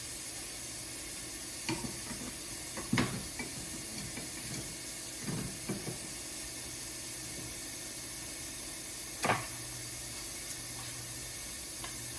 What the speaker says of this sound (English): Gotta watch my grilled cheese too. I don't want to burn it.